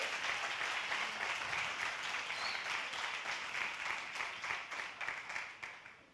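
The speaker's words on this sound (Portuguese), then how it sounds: "Você pode aplaudir o Senhor por isso?" A church congregation applauds, a sustained wash of many hands clapping at medium distance, fairly even before slowly fading toward the end.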